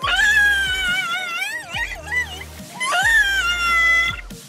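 Orcas cry out while trapped between closing slabs of ice: loud, piercing, wavering calls rise and fall in three long bursts over rumbling low water noise, alone with no talk.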